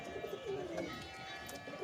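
Pigeons coo softly and steadily, with low, gentle, rolling calls repeating close by against a faint background hiss.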